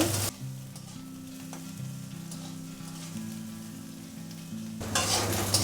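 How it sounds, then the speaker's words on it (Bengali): Eggplant fries in mustard oil with nigella seeds, a steady close sizzle running throughout over a low tonal melody, with no talk and a brighter burst of frying at the end. "একটু সামান্য সরষের তেল দিয়ে দেবো আর দিয়ে দেবো কালো জিরে সামান্য দিয়ে বেগুন বেগুনটা একটু ভেজে নেব"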